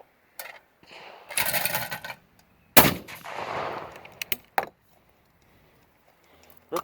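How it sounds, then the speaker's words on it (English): Economy shotguns fired at clay targets outdoors, with sharp, loud blasts and clattering bursts separated by pauses and faint handling noise. "This is a real shotgun right here."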